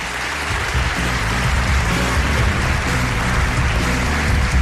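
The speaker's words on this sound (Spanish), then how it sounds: "que se vuelva a sentir que en esta segunda hora estamos vivos y estamos aquí con un aplauso" An audience in a radio show hall claps continuously, a broad hissing wash of many hands blended with low rumble from the room, steady and loud throughout.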